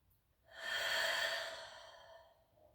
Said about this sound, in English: Keeping with that steady, deep, slow inhale and exhale.